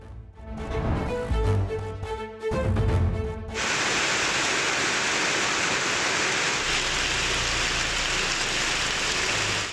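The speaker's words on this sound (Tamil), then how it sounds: "குறிப்பாக கூடலூர் மட்டுமின்றி நாடுகாணி, பந்தலூர், சேரம்பாடி, தேவர் சோலை உள்ளிட்ட பகுதிகளிலும் பரவலாக கனமழை பெய்தது" Heavy monsoon rain falling across the Nilgiris district in Tamil Nadu, around Gudalur, a steady loud dense hiss of downpour after about three and a half seconds of music with tonal stabs, continuing unbroken to the end.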